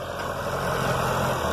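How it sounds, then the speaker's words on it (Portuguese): A tractor engine idles steadily while gathering weeds, a constant mid-to-low droning hum with even vibration throughout, close and fairly loud, with no talking. "Ciscando o mato agora com o trator."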